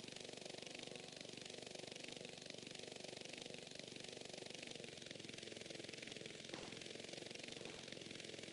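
The toy-sized engine of an RC Goblin helicopter in GTA San Andreas buzzes steadily and continuously, a rough, high-revving drone that holds at even loudness throughout.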